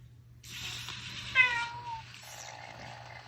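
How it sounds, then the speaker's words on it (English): A Chongker MateCat Pro interactive robot cat gives a few short electronic meows at moderate volume, varying slightly in pitch, with no one talking over them. "You can hear there are a few different meows."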